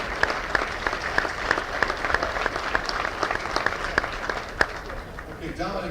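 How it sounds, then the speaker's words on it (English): Applause at a Staunton Military Academy reunion evening, with a fairly thin crowd and distinct individual claps punctuating a steady patter, tapering off at the end. "Big round of applause for all our first captains."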